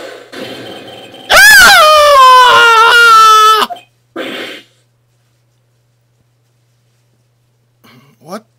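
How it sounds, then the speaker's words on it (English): A sudden, loud, piercing woman's scream rings out for about two seconds in the Phoenix Wright video game, set at night in a temple courtyard, then stops abruptly into near silence. "That blood-curdling scream came from the courtyard!"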